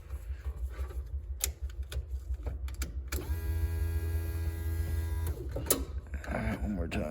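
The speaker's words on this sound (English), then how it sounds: "Oh, I hear a fuel pump. Let me prime it a few times." Fuel pump priming in a mid-engine Honda CRX with the key turned: an electric buzz hums steadily for about two seconds amid clicks, handling noises and scattered knocks.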